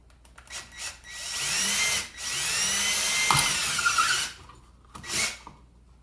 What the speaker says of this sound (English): Then I just need to drill a 5mm hole in the top there.